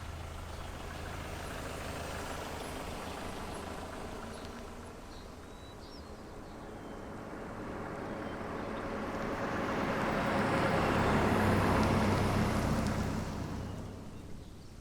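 A vehicle engine runs steadily at low pitch, then swells louder as the vehicle pulls away and moves off, with a broad rushing noise peaking before it fades slightly; no talking.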